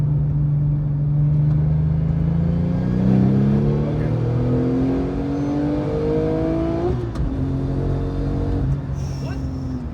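A Porsche 911 Turbo pulling hard from third gear, its engine note climbing steadily in pitch, then a sharp shift and renewed rise as it keeps accelerating, heard from inside the car with occasional voices.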